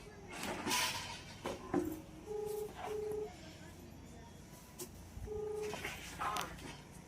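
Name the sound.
telephone dialing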